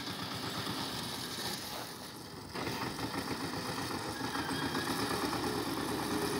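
An MTZ 82 tractor engine idles just after starting, a steady, close, continuous diesel rumble that dips briefly and then settles back to an even running rhythm.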